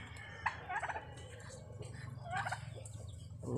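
Black Australorp chickens calling faintly over a low hum, with a few scattered clucks and gobble-like bursts from birds nearby.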